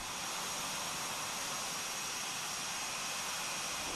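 A close air support jet aircraft taking off gives a loud, continuous broadband roar with a steady high whine, filling the whole span without any voices.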